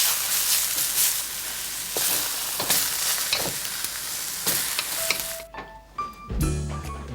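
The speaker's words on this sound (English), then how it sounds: "we stir fry." Food sizzling and crackling in a hot pan while being stir fried, a steady loud broadband hiss with stirring scrapes, then cutting out near the end into quieter clinks and a low rumble.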